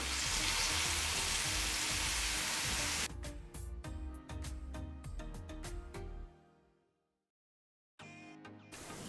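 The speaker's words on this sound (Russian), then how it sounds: "Теперь заливаю пивом." Beer is poured over meat frying in a hot pan and raises a loud, roaring hiss that breaks into bubbling crackles, fades to silence, then sputters back.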